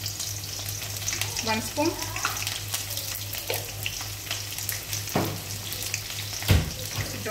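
White cumin seeds crackle and sizzle in hot frying oil for kadhi, a soft continuous fizz with light stirring clicks, while a person talks briefly over it.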